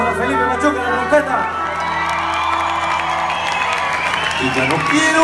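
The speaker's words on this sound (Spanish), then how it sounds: "Un aplauso para Felipe Machuca, la trompeta." A live bar crowd cheers and applauds a trumpeter mid-concert, its steady clapping and whoops blending with sustained music throughout.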